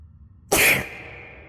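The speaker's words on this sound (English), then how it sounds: "Always reverb your sneezes." One loud, close sneeze from a streamer erupts suddenly mid-clip, drenched in added reverb so it rings out and decays in a long echoing tail over a low background hum.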